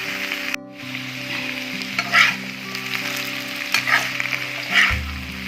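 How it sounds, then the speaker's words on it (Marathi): A seasonal mahua-string vegetable curry sizzles steadily in a pan while a spoon stirs it, with three scraping strokes standing out over the constant frying hiss and a low background hum. "सर्व भाजी आपण मिक्स करून घेऊया"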